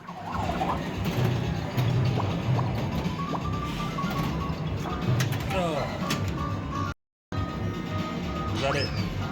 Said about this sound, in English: Crombie couldn't say no to a little bit of a yabba dabba doo action on the classic Flintstones pinball machine here